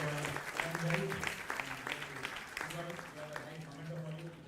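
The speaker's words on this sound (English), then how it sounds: "please give a big clap of applause" An audience at the All India Management Students Convention claps steadily, scattered hand claps running throughout beneath a voice talking over the hall.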